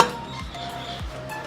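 A metal pressure cooker is handled in a home kitchen while kofta curry is being made, giving two short clanks about half a second apart over faint background hiss.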